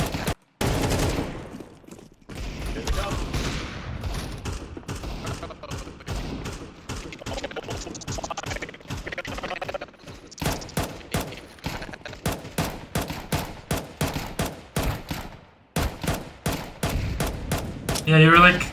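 Rapid gunfire in Counter-Strike 2 comes as repeated sharp shots, some in tight bursts and some spaced out, with a louder spray at the start and close single cracks toward the end, while players talk in between.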